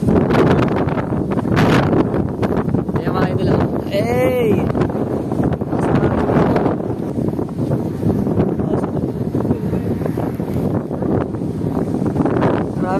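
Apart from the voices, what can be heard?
strong wind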